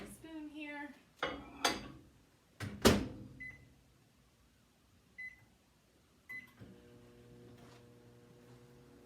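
A microwave oven warms chocolate to melt it, with a few loud clunks and door or dish knocks, a series of short beeps, and then a quiet steady hum as the oven runs.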